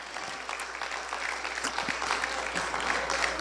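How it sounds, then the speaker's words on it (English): A church congregation claps during a sermon, a continuous dense spread of applause heard at moderate distance with a faint voice beneath. "You should be clapping right now."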